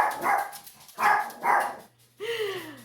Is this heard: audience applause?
no